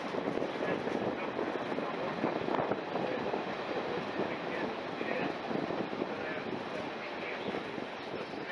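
Weardale Railway heritage train rolling into a station platform, a continuous broadband rumble and wind-like rush heard from on board, steady throughout with faint voices in the background.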